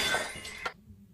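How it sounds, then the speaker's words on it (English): Glass shatters in a video game: a single close, bright crash with tinkling debris that cuts off abruptly, followed by near silence. "Broken glass."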